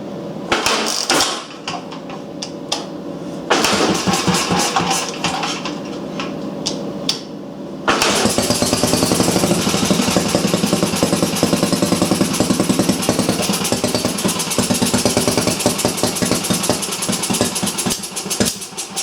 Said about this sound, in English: I had 2 or 3 pumps on this and it started